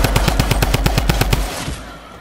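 Fast automatic weapon fire in Fortnite, a steady burst of about a dozen evenly spaced loud shots that stops abruptly and leaves a short fading tail.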